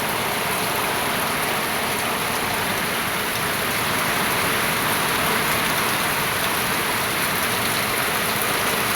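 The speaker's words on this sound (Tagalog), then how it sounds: "ang lakas po ng abus ng ulan" Heavy rain pours down steadily in the early morning in Malinao, Albay, a dense, loud, unbroken hiss of water lasting throughout with no voices.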